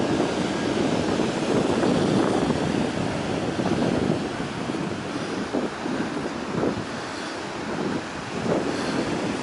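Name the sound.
ocean waves on a beach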